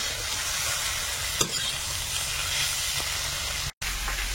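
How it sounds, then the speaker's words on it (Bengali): Potato pieces frying in oil in a pan and being stirred while they brown, a steady close sizzle and hiss with occasional scraping taps, no voices. "এখন আলুটা একটু লাল লাল করে ভেজে নেব।"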